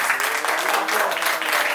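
Audience applause rings out at an award ceremony honoring Rodzine, a steady, dense clapping from a crowd that fills the room without pause.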